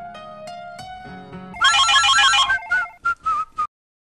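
A phone ringtone plays a loud electronic melody, first steady tones and then a bright warbling jingle that cuts off into silence, heard indoors in a Garhwali family drama.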